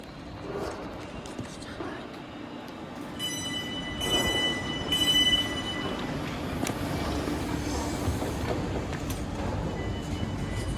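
A London Northwestern Railway Class 350 electric unit, 350-257, heads toward Stafford. It gives a steady, close rolling rumble with brief high metallic squeals and tones, and voices talk over it.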